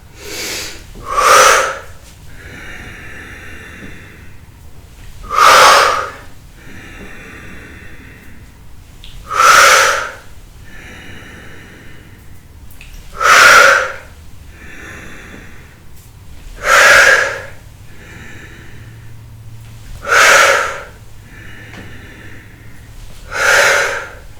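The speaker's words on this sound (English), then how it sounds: "Exhale, take it down. Inhale, reaching up." Breathing in and out during a standing exercise sequence: six slow, evenly spaced breaths about four seconds apart, each a close, airy exhale standing out from a quiet background.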